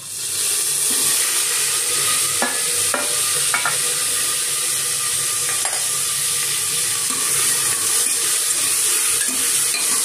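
Green chillies, onions and tomatoes sizzle steadily in hot oil for dal tadka, a continuous close frying hiss with a few soft stirring knocks.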